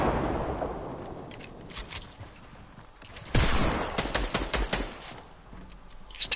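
Rapid bursts of gunfire in a Fortnite match as rockets are shot down, loud cracking shots clustered in the second half after a softer stretch of game ambience.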